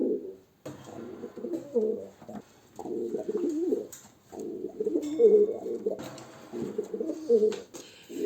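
Pigeon cooing in soft, repeated throaty phrases, close and fairly steady through the whole stretch, with short pauses between calls and no talk over it.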